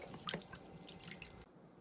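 Tap water running while rinsing cyanotype prints: faint, irregular splashing and dripping into a sink, with a few brighter droplet hits before the flow quiets.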